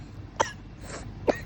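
Two short, deliberate coughs, a fake cough, sound close by against a low background hum, about a second apart.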